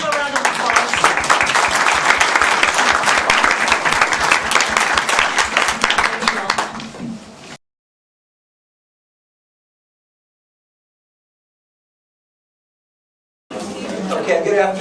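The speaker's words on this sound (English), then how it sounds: "Can we have a round of applause?" Conference audience applause, a dense round of clapping with some voices that fades out, followed by silence before crowd noise and talk return.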